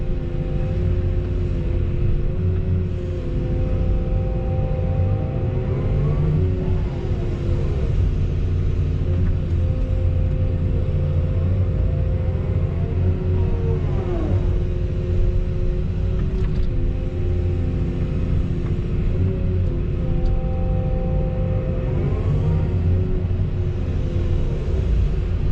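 Heavy equipment moving dirt to stockpile topsoil on a farm, a loud continuous diesel rumble with shifting engine tones and mechanical squeals over about twenty-five seconds.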